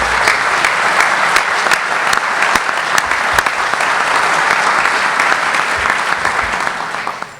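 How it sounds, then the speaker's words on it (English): A large audience at a Convention of States simulation applauds the parliamentarian, Spencer, with loud, sustained, dense clapping that holds steady for about seven seconds before tapering off at the end. "So I'd like you to give Spencer, our parliamentarian, a big round of applause"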